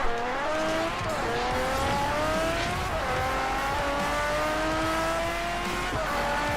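A racing car in Forza Horizon, an S-class machine with a buzzy, lawnmower-like tone, howls through repeated climbs in revs, each upshift dropping the pitch before it rises again, with tire squeal mixed in, loud and close.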